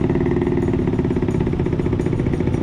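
A passing Yamaha RX-King motorcycle on a street in Bogor, its engine giving a steady, loud, rattling buzz that holds close and constant throughout with no talk over it.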